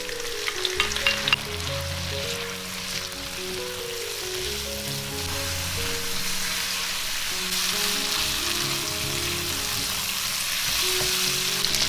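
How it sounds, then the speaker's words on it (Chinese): Beef brisket stir-fried in a wok with rice wine and a prepared sauce, sizzling loudly and steadily throughout, with no talk. "加少许料酒去腥， 接着把调好的酱加进来，"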